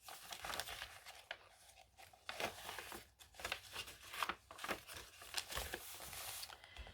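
Paper journal pages and a paper bag rustle and crinkle up close in quiet bursts, with sharp crackly handling sounds and brief pauses between them.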